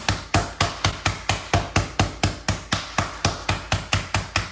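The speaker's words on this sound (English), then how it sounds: "I'm gonna use this just to kind of pound it out even a little bit thinner" Rapid, steady pounding: about four sharp thuds per second, close and loud, like a mallet striking chicken cutlets inside a freezer bag on a hard surface, with no voices.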